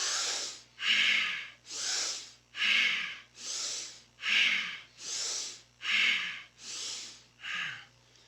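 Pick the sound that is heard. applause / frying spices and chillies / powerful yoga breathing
powerful yoga breathing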